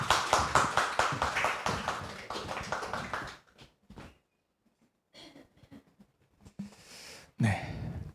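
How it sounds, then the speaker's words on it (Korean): A church congregation claps together to welcome a pastor to the front, with brisk rhythmic clapping for about three seconds before it stops abruptly into near silence, broken only by a few faint taps and shuffles. "박정수 목사님 올라오실 때 우리 함께 환영하는 박수로 모시겠습니다."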